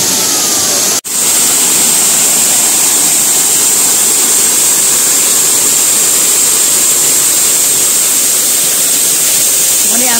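Twin Falls waterfall in Bohol roars as loud, continuous broadband rushing water, close and steady throughout after a brief dropout near the start.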